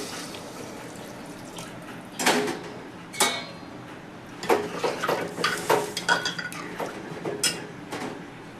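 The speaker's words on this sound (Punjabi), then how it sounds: "ਲਓ ਜੀ ਆਪਾਂ ਨੇ ਇੱਕ ਗੜਵੀ ਫੁੱਲ ਭਰ ਕੇ ਇਹਦੇ ਵਿੱਚ ਪਾਣੀ ਦੀ ਪਾ ਦਿੱਤੀ ਹੈ" A full pot of water being poured into a potato and Amritsari vadi curry in a home kitchen, with splashing and clinks of a metal vessel coming in uneven bursts, fairly close and moderately loud, without talk.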